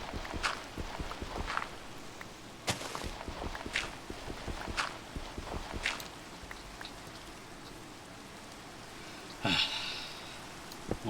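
Rain falls in Minecraft at night, a faint patter mixed with scattered footstep-like taps and occasional sharper drips, quiet throughout.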